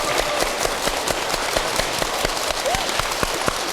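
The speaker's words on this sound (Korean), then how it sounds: "박수 한번 주십시오" A studio audience at a Buddhist television talk show applauds, a dense, even clatter of many hands clapping that holds steady for several seconds.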